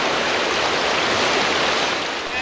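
River water rushing steadily through a rafting stretch near Kullu, a dense, continuous broadband roar close by with no voices over it.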